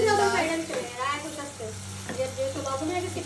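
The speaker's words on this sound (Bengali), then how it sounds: "ফ্রাই যেহেতু হয়ে গেছে, সেহেতু আমি পেঁয়াজ ভাজি চাপাই দিচ্ছি। এটা হলো ডিমের জন্য।" Onions frying in a pan as a base for eggs, a steady sizzle with stirring scrapes running beneath a voice talking throughout.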